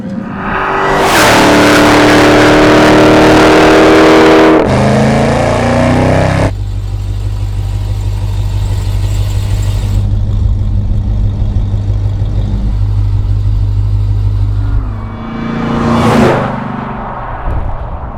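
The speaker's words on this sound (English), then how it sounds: "nothing like an all-wheel drive launch, man." A 1000 HP Hennessey-tuned Jeep Trackhawk launches with all-wheel drive, its engine roaring loud and close as it climbs through the revs, then settling into a heavy steady drone before a final rising surge.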